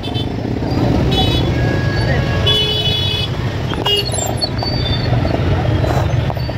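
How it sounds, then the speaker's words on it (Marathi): Busy street traffic during a Dahi Handi festival procession in Dadar, Mumbai, with steady loud engine rumble and several short car horn toots, a crowd murmuring throughout. "ट्रॅफिक खूप आहे."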